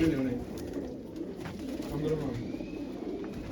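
Domestic pigeons coo in soft, repeated low murmurs amid a loose flock at a pigeon fancier's loft, close by and steady, with someone talking over them throughout.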